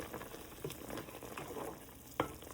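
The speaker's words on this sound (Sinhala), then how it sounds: "මේ බලන්නකො මස් එක හොඳට තැම්බෙන විදිය." Spicy chicken curry bubbling gently in a pot over low heat, a soft, close simmer and sizzle with a sharp clink near the end.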